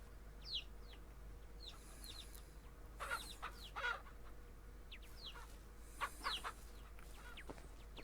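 Chickens and a rooster in the Ranch Simulator game give scattered clucks and squawks, some bursts louder and closer, over a quiet farm backdrop with no talk.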